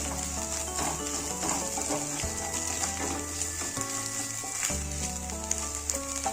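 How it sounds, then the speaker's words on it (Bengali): Egg seasoned with chilli powder, cumin-coriander powder and salt frying in a pan while being stirred, with a steady soft sizzle and scraping under tonal background music. "ডিমটা একটু ভাজা ভাজা করে নেব।"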